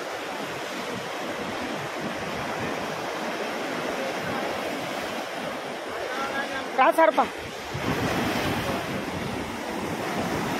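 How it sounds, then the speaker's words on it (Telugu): Big ocean waves rolling in at a Chennai beach, a loud continuous roar of surf with wind buffeting the microphone, a brief clattering burst partway through, and people talking nearby. "అలలు చాలా పెద్దగా వస్తున్నాయి"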